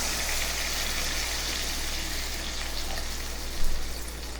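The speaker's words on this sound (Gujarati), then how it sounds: "જોઈતા પ્રમાણમાં પાણી નાખીશું." Water poured into a pan of sautéed chopped tomato while cooking masala khichu, giving a steady, loud gushing sizzle that runs unbroken throughout, with a brief swell near the end.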